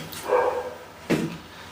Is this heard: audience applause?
no